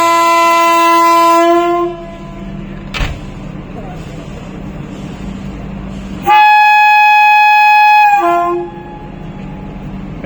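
A new self-propelled semi-high-speed train, number 26471, sounds long loud horn blasts on its first commercial run, two sustained tones separated by a brief sharp thump, with rumbling rail noise underneath.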